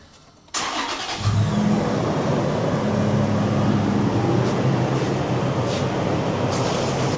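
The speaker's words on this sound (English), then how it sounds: "hopefully you can hear me over the loud sound of the engine" Car engine cranks briefly and catches, then settles into a loud, steady idle that runs continuously up close, with no talking.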